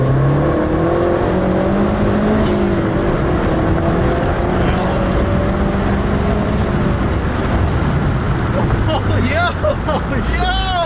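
A Mazdaspeed 3 hot hatch engine roars and revs hard at wide-open throttle under constant loud road and wind noise, pitch climbing steadily as it pulls, with voices talking over it.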